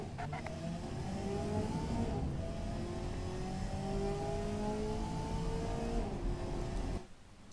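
A relatively cheap rear-wheel-drive car's engine revs steadily around Laguna Seca in a racing video game, with a sustained droning whine that rises and falls through gear changes and then cuts off abruptly at the end.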